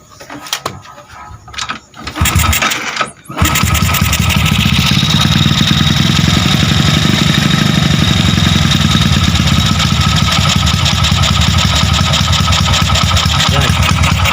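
A Honda Wave 100 motorcycle with a 53mm bore kit, carburetor and exhaust fitted is cranked a few times, then catches and settles into a steady, close, loud idle that runs evenly to the end.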